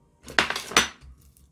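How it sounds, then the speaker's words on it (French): A knife cuts through an onion on a board while fish fillet with spinach and vegetables is prepared, giving two sharp, close chopping knocks a fraction of a second apart, then quiet. "On va couper l'oignon."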